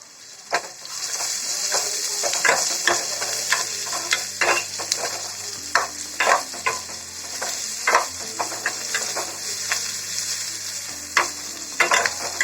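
Liver fry with salt being stirred in a hot pan, a continuous close sizzle punctuated by repeated sharp spoon scrapes and clicks against the metal.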